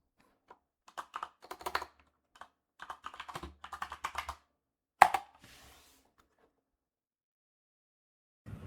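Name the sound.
typing on a computer keyboard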